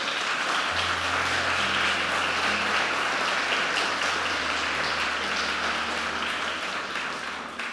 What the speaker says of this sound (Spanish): Entonces, denle un aplauso a Él.